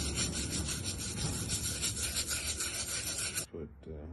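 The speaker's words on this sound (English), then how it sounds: "Add the formula and scrub." A brush scrubs a sneaker sole coated in cleaning formula, giving a loud, close, continuous rasping rub that stops abruptly near the end.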